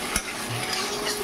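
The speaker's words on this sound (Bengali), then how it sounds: "আমার এখানে ছোলা ভাজাটাও চলছে," Chickpeas frying with potatoes in a home kitchen pan, a continuous close sizzle broken by a sharp scrape of a spatula stirring against the metal.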